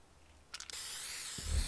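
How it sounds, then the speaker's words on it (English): Short hissing burst of spray paint in Fortnite Creative, beginning after a brief lull and holding as a steady bright hiss to the end, with no voices. "Gonna spray paint while we wait for these."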